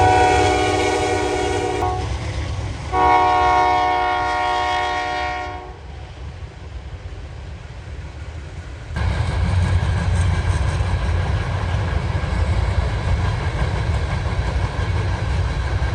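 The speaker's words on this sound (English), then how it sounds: "This guy has 2 rebuild AC-44 C6Ms leading the way." A freight train led by two rebuilt AC44C6M locomotives passes outdoors on a cold day in southwest Ohio, its horn blaring in loud harmonic blasts over the heavy diesel rumble, then giving way to the steady roar of rolling cars.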